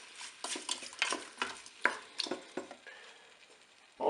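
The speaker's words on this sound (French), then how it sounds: "Je mélange." Pork sauté with mushrooms and carrots being stirred in a Cookeo multicooker pot, a run of short scraping and clinking strokes in quick irregular rhythm, close and fairly quiet, ending on a louder knock.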